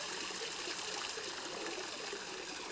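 A garden waterfall water feature fed by a 14-zone Hunter irrigation system, flowing in a steady soft rush and trickle, faint and continuous with no voices.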